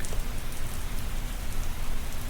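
Steady rain pours down as an ambient effect in a tabletop RPG actual-play podcast, a dense, even hiss of drops on surfaces running continuously and fairly loud with no voices.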